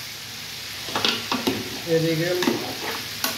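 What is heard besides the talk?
chicken meat being stir-fried with spices in a pan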